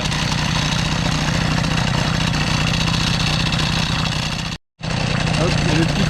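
A Peugeot 103 moped fitted with an Airsal 65cc T3 kit, running loud and steady close by, its engine note holding throughout with a brief cut near the end before it picks up again.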